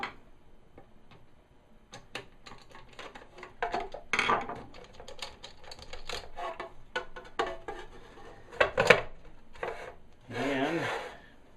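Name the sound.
unscrewing screws from the back of a vintage AM radio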